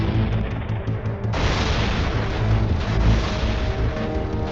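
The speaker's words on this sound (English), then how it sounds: "They start bombing into that midway" Bombs explode at Midway in World War II footage: dense, roaring blasts with deep rumbling that swell louder after the first second and keep going without a break.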